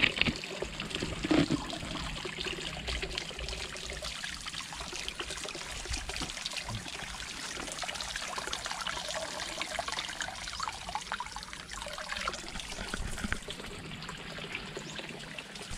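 A steady trickle of water runs continuously outdoors in rural Philippines, filling a bottle, a soft, even stream with no voices.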